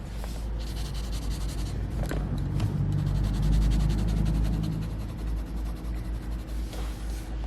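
A black colouring pencil scratches and rubs across paper as it darkens a drawing, a close, steady scribbling with short strokes and brief pauses, no voices.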